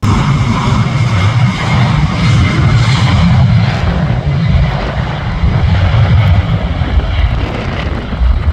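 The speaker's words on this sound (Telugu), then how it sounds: "ఇప్పటిదాకా చాలా ఫ్లైట్స్ వచ్చాయి" An airplane flies overhead near the University of East London campus, a loud sustained engine roar that rumbles steadily and fades slightly toward the end, with no talking.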